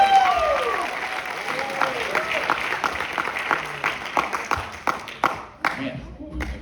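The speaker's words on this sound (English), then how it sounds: "I just want to give them one more round of applause before we start" Crowd applause and clapping for high school jazz bands at a school concert, starting full and thinning into scattered individual claps, with an announcer's voice and a whistle-like tone over the early part.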